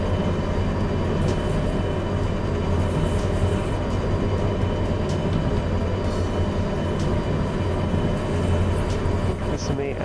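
A diesel locomotive hauling a night freight train in the Derail Valley railway game, a continuous loud low rumble and rolling drone that holds steady for the whole stretch, with no talking.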